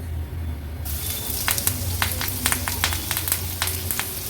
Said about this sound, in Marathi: ह्याच्यामध्ये कढीपत्त्याची पानं आणि कांदा फोडणीला घालणार आहोत